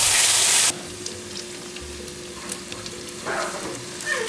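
Steak fries in a pan with a soft, steady sizzle, close and moderate in level, after a brief louder hiss at the start; nobody speaks.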